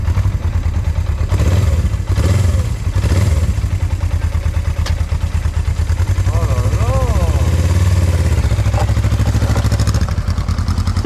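A Suzuki motorcycle engine runs loudly and close, a steady low throb with clattering bursts and a brief rev, while people talk over it.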